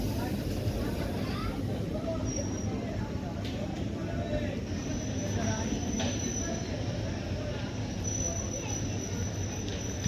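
Pandharpur–Nizamabad Express, train 11414, rolls into Latur Road station with a steady low rumble of wheels and carriages, faint squeals and clatter over a continuous station din.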